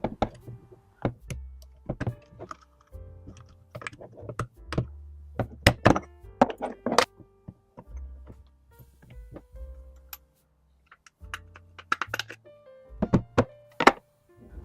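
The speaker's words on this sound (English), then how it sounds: "Now slide out the recoil spring and bolt carrier." Metal and plastic parts of an airsoft WellPro PP-19-01 Vityaz gas blowback gun being handled as the recoil spring and bolt carrier slide out, a series of close, sharp clicks, knocks and thunks in an irregular rhythm.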